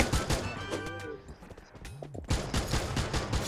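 Gunfire in the Free Fire battle-royale game, a quick burst of close sharp shots at the start and more shots later, with a player's voice talking between them.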